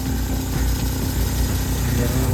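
A Tata Nexon 4x2 idles on black ice at Baralacha La Pass on the Leh–Manali road, its engine humming steadily and close with a low, unbroken rumble.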